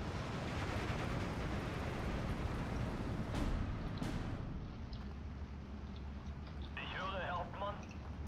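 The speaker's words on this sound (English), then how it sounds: "they're counter-battering us with rocket artillery, Roy." Rocket artillery explodes in a Steel Division II battle, a dense, continuous roar of blasts and rumbling with a few sharper bursts standing out, loud and sustained throughout.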